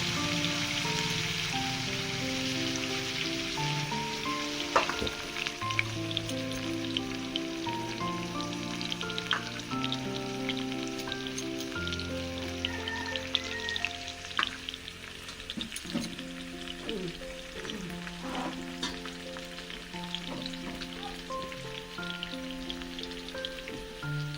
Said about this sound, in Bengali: আমি দিয়ে দেবো এর মধ্যে একটু হলুদ গুঁড়ো আর একটু নুন দিয়ে আমি আলু চিকেনটা ভালো করে ভেজে নেবো